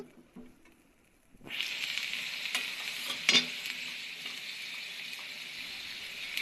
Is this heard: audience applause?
no